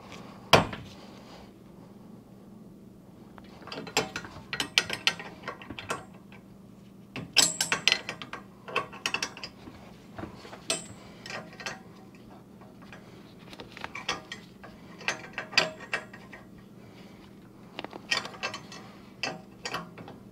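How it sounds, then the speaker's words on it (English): A ratchet clicks in short bursts while tightening bolts on a garage door torsion spring, with metallic ticks and clunks spread through a quiet, steady background. "tighten this side down as well as best you can and get that all wound up and in"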